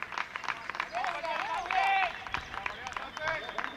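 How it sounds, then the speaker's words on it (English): Romanian supporters at a T10 European Cricket International match in Milan, Italy cheer and shout in short bursts of mixed voices, with some scattered clapping underneath. The crowd sounds moderately distant. "Big cheer from the Romanians."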